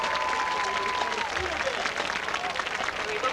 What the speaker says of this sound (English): Can we hear one more round of applause for the band and the three soloists?